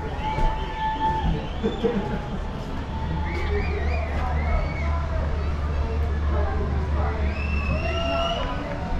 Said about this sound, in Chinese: 游轮在下午4点正式起航啦，船上的人都在欢呼。